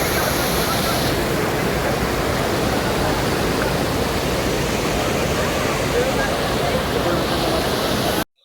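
A waterfall near a Shiva temple at Doddametrai near Hosur roars in a dense, steady wash of rushing water, loud and close, with no pauses throughout.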